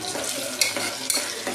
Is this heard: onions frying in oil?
yes